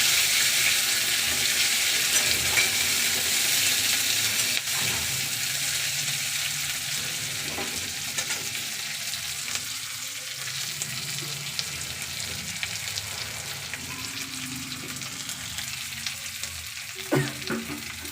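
Chopped raw onion sizzles in a hot pan as part of a fish curry, a steady, loud frying hiss with occasional stirring clinks, and no talking.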